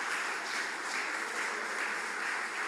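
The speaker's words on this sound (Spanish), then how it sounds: "Démosle ese aplauso a Jesús" Steady applause from a church congregation giving a round of clapping for Jesus during a Spanish-language service, a sustained even wash of many hands clapping together without voices on top.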